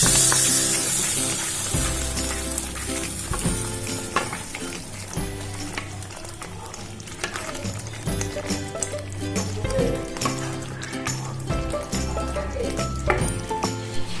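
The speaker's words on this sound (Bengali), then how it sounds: "এবার কাশ্মীরি লঙ্কা, এটাই ঢেলে দিচ্ছি।" Kashmiri chili added to a frying pan of golden garlic for dhaba-style palak paneer, with a loud, continuous close sizzle and crackle of hot oil and scattered stirring clatter throughout.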